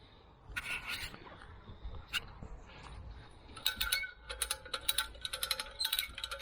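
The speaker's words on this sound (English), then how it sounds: "So basically John's going to crank this away" A hand crank ratcheting to free a stuck magnet while magnet fishing, with sparse clicks giving way to bursts of rapid metallic ratchet clicking, close and moderately loud.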